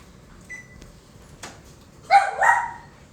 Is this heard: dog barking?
yes